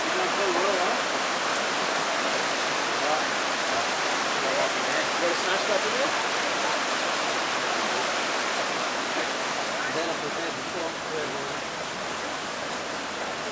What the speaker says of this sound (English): Oh, the water that come rushing out.